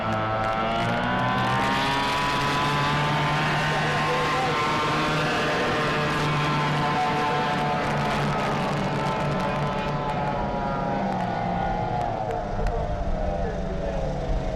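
Race cars accelerating in a drag-style race, engine tones climbing steadily with rising harmonics over a loud continuous roar, crowd noise and an announcer's voice mixed in throughout.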